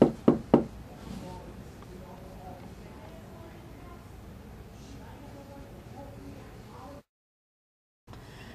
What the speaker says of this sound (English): can you knock on something like this?